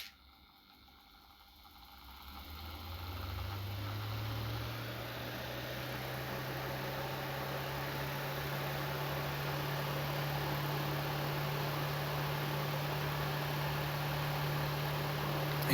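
A homemade helicopter drone driven by a Dremel rotary tool spins up after a quiet start, settling into a steady, loud motor whine and rotor whoosh that holds without pause to the end.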